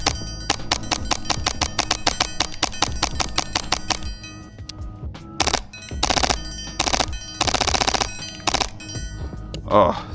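An MTW airsoft gun fires outdoors in long, rapid full-auto bursts of sharp, loud clacks, then pauses before shorter strings of shots.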